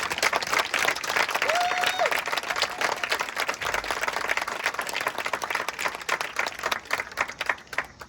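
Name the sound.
audience applause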